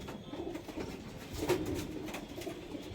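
A young Kaldum-type pigeon at a pigeon sale gives low, muted coos, faint and distant amid quiet background rustle.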